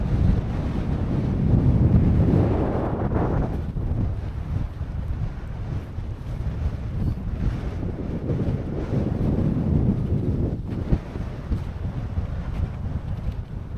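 Strong wind buffets the microphone on a snow-covered winter mountain at Stybarrow Dodd, roaring steadily and close for the whole stretch with gusty swells and no voices.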